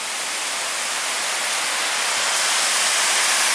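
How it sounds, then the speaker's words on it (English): Chapel Falls at Pictured Rocks, Michigan, roars as a steady, dense wash of falling water, loud and close, with no voices over it. "Now that's a waterfall."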